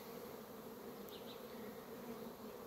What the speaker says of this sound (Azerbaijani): Çox zəifdir arılar.